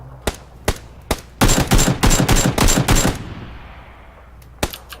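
Gunfire in PUBG: Battlegrounds, with a few single loud shots, then a rapid automatic burst of about a dozen rounds, followed by a fading tail and one more shot at the end.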